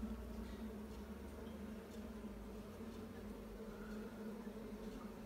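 Honeybees buzz inside a window-style observation hive, a faint, steady low hum that continues throughout with no pauses.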